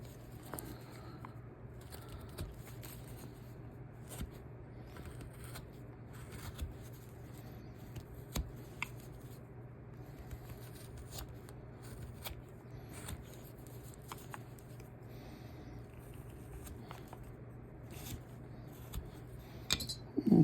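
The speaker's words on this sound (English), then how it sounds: "we'll use our soft V to cut that out" Wood is cut with a soft V-gouge while carving a small figure, giving quiet, close, repeated scraping and slicing strokes with occasional light clicks against a low steady background hum, with no talking.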